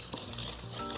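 Buttermilk scone dough for blueberry scones being stirred with a Danish dough hook, a steady scraping, sloshing churn with soft clicks against the bowl, close and continuous for about a second.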